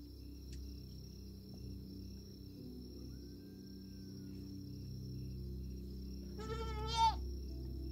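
A single goat gives one short, wavering bleat near the end, fairly close, over a quiet, steady background hum.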